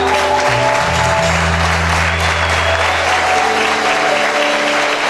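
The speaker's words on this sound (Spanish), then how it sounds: "Gracias por esos 3 aplausos." Loud, close applause from a church congregation fills the whole span at a constant level, with sustained organ or keyboard tones ringing beneath the clapping.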